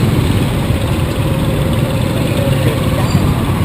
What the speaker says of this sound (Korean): 들어서면서 오토바이가 더 많아져서 너무너무 복잡합니다